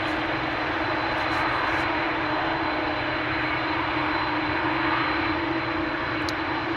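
American Airlines Boeing 787-8 Dreamliner jet at Amsterdam Schiphol Airport, its engines giving a steady, loud broadband roar that holds evenly throughout with no talking.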